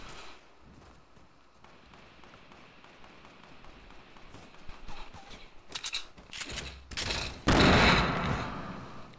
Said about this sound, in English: I hear firing.